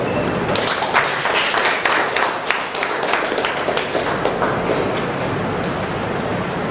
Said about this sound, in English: Big clapping.